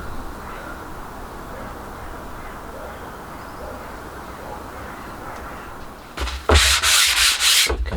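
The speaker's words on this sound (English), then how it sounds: "rub with 500 grit, I think, for a second coat, just to take any nibs off" Fine 500-grit sandpaper rubs steadily across wooden garden furniture in a continuous, close scratchy hiss. Near the end it gives way to a brief, louder burst of rasping strokes.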